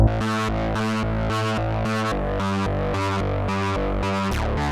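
A distorted, gritty electric bass plays a repeating riff of chopped notes, loud and upfront, with a fuzzy, saturated tone from a Mixland Tilt tube distortion grit setting throughout.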